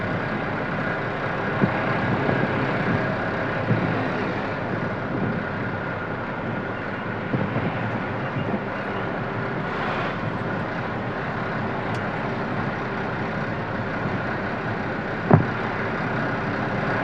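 A truck drives slowly along the highway from Kochi to Chennai, its broadband engine and road rumble steady and close throughout, with a sharp knock near the end.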